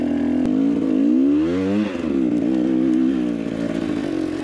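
An enduro motorcycle engine runs loud and close, its pitch rising and dipping as it revs, steady throughout with no pauses.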